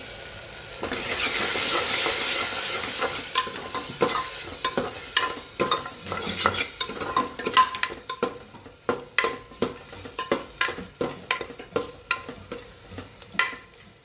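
Spiced masala of turmeric, red chilli, coriander-cumin powder and salt hits hot oil with a loud hissing sizzle, then a near stirring spoon scrapes the pan in quick sharp clinks as the oil separates; no talking.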